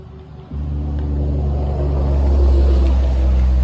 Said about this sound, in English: I apologize about the traffic noise in advance,